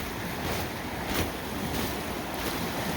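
A steelhead river running high and fast after heavy flow makes a steady broadband rush of water, mixed with wind noise on the microphone, continuous and without voices.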